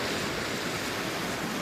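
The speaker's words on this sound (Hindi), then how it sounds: "ये बहुत खूबसूरत पानी है और इस दरिया की आवाज़ बहुत खूबसूरत है" Steady broadband rush of the Kunhar River flowing near Naran in northern Pakistan, a continuous close roar of turbulent water with no breaks and no voices.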